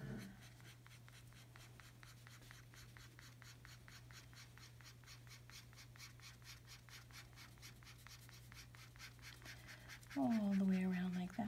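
A pencil colors in a drawing of a sea otter on paper with faint, rapid back-and-forth scratching strokes in an even rhythm, very quiet, with a brief voice near the end.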